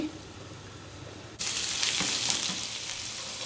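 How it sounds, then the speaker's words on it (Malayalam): Garlic and ginger dropped into hot coconut oil: a faint hum gives way to a sudden bright, crackling sizzle that holds steady and close for a few seconds. "വെളുത്തുള്ളി ഇഞ്ചി ഒന്ന് മൂക്കുമ്പോഴത്തേന്"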